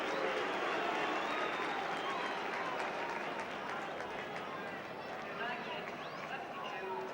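A football stadium crowd at a 1972 Manchester United versus Ipswich Town match applauds a substitution, a broad, distant wash of clapping and crowd noise that slowly eases in loudness.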